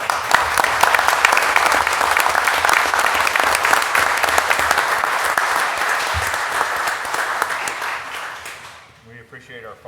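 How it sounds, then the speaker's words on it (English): Strong, dense applause from the audience at a city council meeting, loud and sustained for several seconds before tapering off and fading near the end. "I'd like to give Mr. Vick a round of applause"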